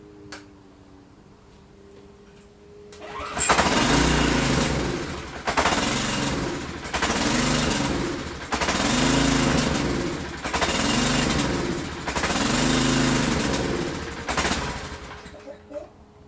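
A small engine on a Troy Bilt pressure washer starts up and runs loud and close at higher throttle, its steady pulsing chug rising and falling in regular surges before cutting back near the end.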